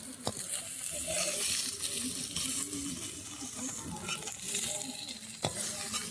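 Rupchand fish heads fry in a pan with a steady, close sizzle, broken by occasional scraping stirs and sharp spatters.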